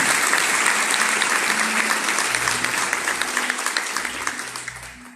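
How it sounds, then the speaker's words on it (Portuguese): A church congregation at a mission service applauding, dense sustained clapping from many hands at fairly close range, tapering slightly toward the end with a faint low murmur beneath. "Você pode aplaudir a Jesus pela grande salvação que Ele nos deu"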